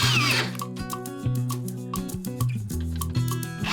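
A power drill drives screws to fix a woodworking jig down to a workbench, a close whirring motor with short bursts and pauses as each screw goes in.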